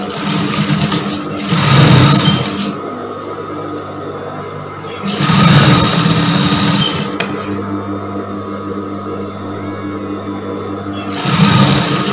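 A sewing machine stitches the seam allowance on a batik blouse, with three loud bursts of rapid mechanical stitching separated by quieter stretches of a steady motor hum.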